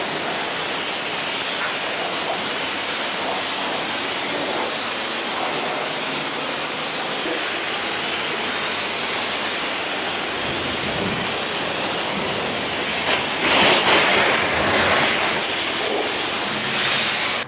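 A high-pressure spray gun at a self-serve car wash blasts pre-wash onto a car, a steady loud hissing rush of water running continuously with slight surges, no talking.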